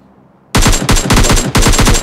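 Automatic gunfire in the mobile shooter PUBG Mobile Lite: after a moment of near silence, loud close-range bursts erupt in rapid rattling volleys, with short gaps between strings of shots.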